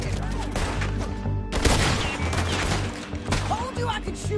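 Gunfire in a Red Dead Redemption 2 shootout: repeated shots and a volley over a busy game soundscape, loudest near the middle of the stretch, with voices talking underneath.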